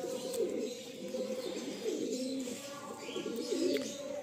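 Pigeons coo in a loft, with repeated low, rolling calls overlapping close by, plus a few faint chirps, all at a steady moderate level without talk.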